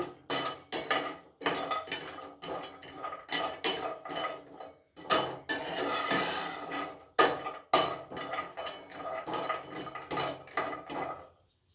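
Cashews frying in a pan over a low flame while a utensil stirs them, giving repeated metallic scrapes and clinks against the pan, close and fairly loud in an uneven rhythm.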